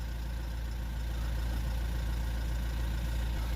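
A Renault Trafic van's diesel engine, with a clogged particle filter, idles steadily with a low, even throb that stays constant and moderately close throughout.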